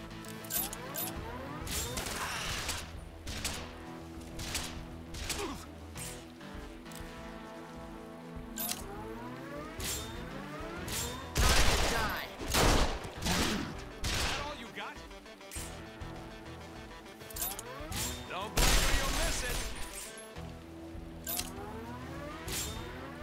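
Bursts of gunfire from a Resonance of Fate battle, with loud shotgun-like blasts around twelve and nineteen seconds over a steady bed of game music and effects.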